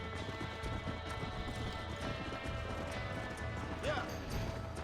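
Hoofbeats of a horse running in Red Dead Redemption 2, a steady clip-clop rhythm over layered game music and ambience, with a brief whinny-like call near the end.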